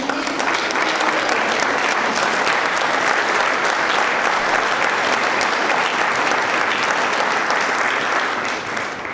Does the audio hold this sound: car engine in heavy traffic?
no